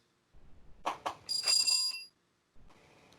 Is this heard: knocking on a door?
no